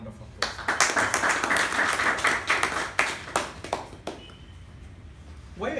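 At a Toastmasters meeting the audience applauds: a few seconds of fairly close, moderately loud clapping that thins into scattered claps and then stops.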